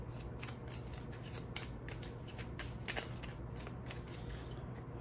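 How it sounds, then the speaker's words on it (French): Action cards from the Golfie golf card game being riffle-shuffled, a steady run of crisp papery flutters and snaps over about five seconds, close and moderately quiet with a faint steady hum beneath. "je remélange seulement les cartes actions"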